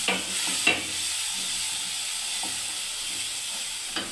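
Spice paste sizzling in a hot pan for a Bengali cauliflower and cabbage vegetable curry, a steady close hiss with a few soft stirring knocks and no talk.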